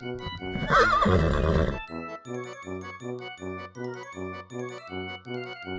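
A toy farm animal plays a recorded horse neigh, a loud whinny lasting over a second, then a bright chiming jingle repeats in an even rhythm.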